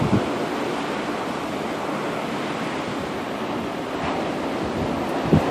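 High tide waves surge and roar against a beach seawall during a blizzard at Revere Beach, a steady loud wash of surf mixed with buffeting wind noise on the microphone, no voices.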